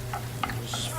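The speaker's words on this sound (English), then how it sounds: "Just fry it up." Four cloves of chopped garlic frying in a pan, a brief steady sizzle with a couple of quick stirring scrapes and clicks, close and moderately loud under a low steady hum.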